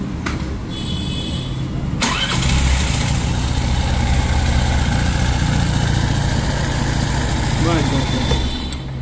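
A freshly serviced motorcycle engine idles with a steady low, even rumble, close and continuous, with brief clicks and handling noises near the start.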